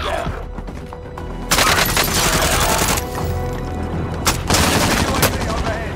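Video game gunfire in a gas-zone battle royale match: dense bursts of rapid automatic shots and heavy cracks, loud and close, with a brief voice line underneath.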